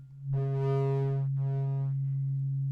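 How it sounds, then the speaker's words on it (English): A weighted Ohm tuning fork is struck and rings with a pure, steady low tone, a brief bright overtone shimmer fading after the strike while the hum sustains. "so that's an Ohm tuner"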